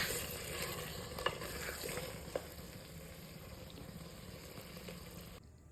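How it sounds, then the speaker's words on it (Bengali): Chicken kosha sizzling in a pan as fenugreek leaves are stirred in, a steady close frying hiss broken by a few sharp spoon scrapes against the metal, with no voices. "এখন দিয়ে দেবো একটু মেথির পাতা, এটা দিয়ে নেড়ে চেড়ে নামিয়ে ফেলবো।"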